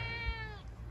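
Kittens meowing on a farm: a single drawn-out, high-pitched mew close by, fairly clear over low background rumble.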